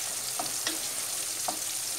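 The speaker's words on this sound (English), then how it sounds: "Give it a mix." Soft scraping and stirring as tomato puree is mixed into spinach and meatballs in a pan, over a steady sizzle of frying with a few light utensil knocks.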